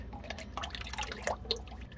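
During an oil change on a large quiet diesel generator, oil drips in a few soft, separate drops, faint and close against a quiet background.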